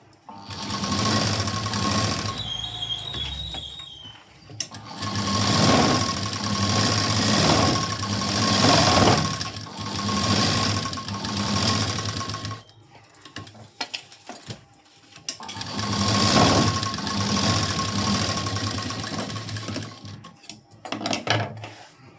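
A sewing machine stitches a cross strip onto the main fabric in rapid mechanical runs: a short burst at the start, then two long stretches of fast clattering separated by a brief quiet pause.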